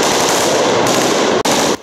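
Rapid automatic fire from a T74 squad machine gun during military shooting training, a loud, close, continuous burst that cuts off briefly near the end before a final trailing shot.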